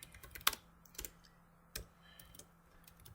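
Laravel code being typed on a computer keyboard, a few sharp, separate key clicks spaced irregularly and heard up close in a quiet room.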